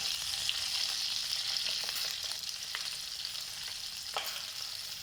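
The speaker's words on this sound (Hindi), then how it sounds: "मिर्चों को हम इसके तीनों के अंदर थोड़ा फ्राई कर लिए।" Green chilies sizzle steadily in hot oil in a pan while cooking pickle-spiced chilies with yogurt, a constant bright frying hiss with faint crackles and a few soft stirring clicks, no voices.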